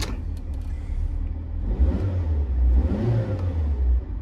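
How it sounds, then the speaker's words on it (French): The engine of a Fiat Panda 4x4 that is running too rich turns over and catches, then settles into a low, uneven rumble with two rises in revs, heard close and without talk. "Alors ce qu'on va faire, c'est que je vais la démarrer."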